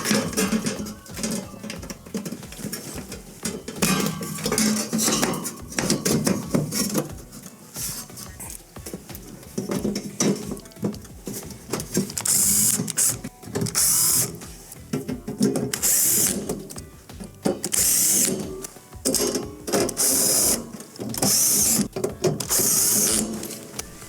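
The back panel of a Maytag PBF1951HEW refrigerator is refitted after a freezer fan repair, with repeated close bursts of a power driver whirring alongside clicks and clatter of metal parts.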